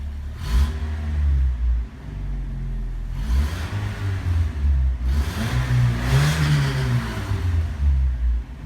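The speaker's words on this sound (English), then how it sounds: "Time for a few revs." A 1987 Toyota 2WD lifted pickup truck engine, warmed up and idling, is revved several times in separate surges, each rising and falling back to a steady idle, close and loud with no talking.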